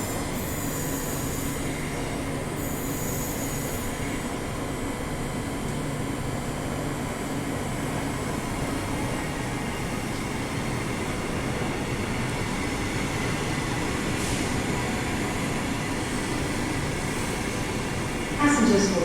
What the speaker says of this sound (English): Got the Claremont service arriving in here now.